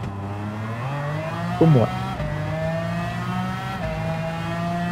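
Race car engine in Gran Turismo 7 revving hard and climbing through gears, a loud, steady whine with sharp pitch rises at each shift and a brief tire squeal, with a short spoken phrase in French.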